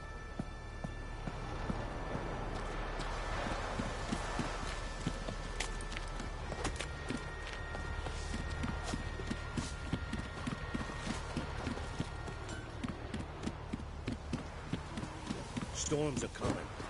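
Horse hooves in The Witcher 3 video game clip-clop in a steady, rhythmic trot, fairly quiet under a broad background wash, with a voice heard briefly.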